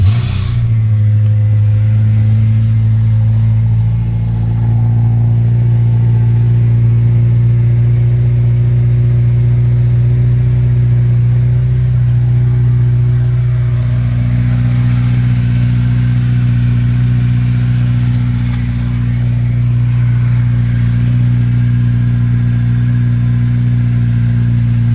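A Honda Integra Type R DC5 fitted with a new exhaust starts up and settles into a loud, steady idle close by, its deep engine drone continuing unbroken with small swells in revs.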